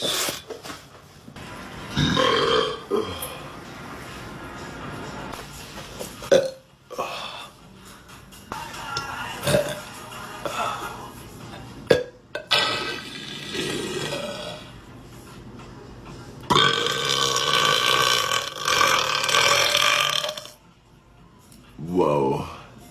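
A muscular blond man lets out repeated loud burps, several drawn-out belches separated by short pauses, with speech and laughter mixed in between them.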